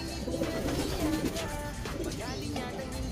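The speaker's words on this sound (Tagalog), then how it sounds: "Napakalaking ibon, no?" A large pigeon cooing close by in a rural Philippine setting, a few soft repeated coos mixed with people talking nearby.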